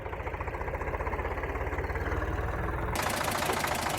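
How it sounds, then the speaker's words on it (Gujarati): Tractor engine driven up to a cowshed farm, a steady loud idling rumble with rhythmic low knocking throughout, growing slightly fuller near the end as it draws close. "તો આ અર્જુનભાઈ જો ટ્રેક્ટર ચલાવીને આવે છે."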